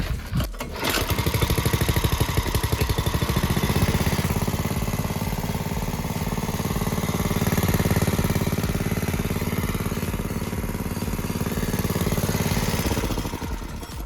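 A 6.5 hp petrol engine on an electric generator is pull-started cold, catching quickly and running loudly nearby with a steady chugging drone that holds for over ten seconds.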